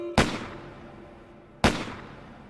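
Two gunshots from a revolver in an exposition reception hall, each a sharp loud crack with a rolling echoing tail, spaced about a second and a half apart, heard alone.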